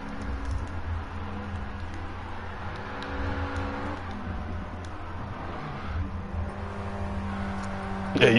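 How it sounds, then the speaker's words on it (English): Cars in Gran Turismo 7 do burnouts at a Tokyo Express car show, their engines droning and revving steadily at moderate distance, with a louder surge at the very end. "you guys are doing some burnouts"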